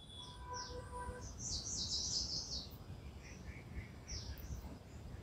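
Small birds chirp and tweet in short scattered bursts outdoors over a soft, steady background hiss, faint and somewhat distant.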